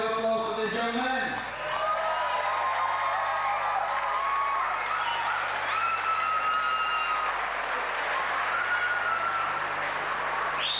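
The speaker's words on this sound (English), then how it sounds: "Let's give a big hand of applause for this young man." A crowd at a Goldwing Owners Club of GB rally in Huddersfield applauds and cheers. The sustained clapping runs at steady loudness under a speaking voice, with some higher tonal sounds above it.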